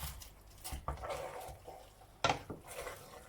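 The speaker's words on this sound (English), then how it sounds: "So now we are going to add our fish, and you just stir a bit" Fish being stirred into a pot of spinach stew, with soft scattered clinks of a utensil against the pot and quiet wet shuffling, faint and close.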